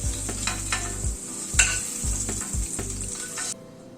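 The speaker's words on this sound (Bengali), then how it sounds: "পনিরটা ভেজে তুলে নিচ্ছি।" Paneer frying in oil with a little ghee in a pan gives a steady close sizzle, broken by several low scraping stirs and a sharp clink near the middle, then the sizzle cuts off abruptly at the end.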